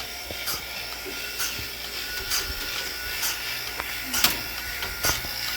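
A goat milking machine pulses in a barn, giving a repeating rhythmic hiss and click at roughly one-second intervals over a constant mechanical hum.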